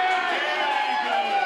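A packed rugby club bar during a Springboks versus Wales match fills with a dense, steady murmur of crowd chatter and noise.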